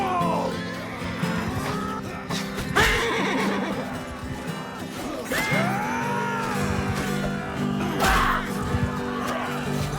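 Horses in the video game Mount & Blade II: Bannerlord neigh in several loud, shrill whinnies over a busy battle din of hooves and clatter, with faint voices mixed in.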